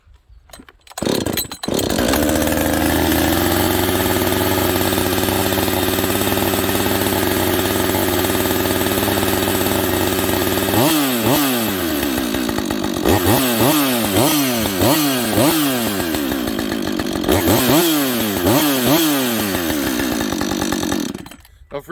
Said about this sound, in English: see how I let it run on fast idle?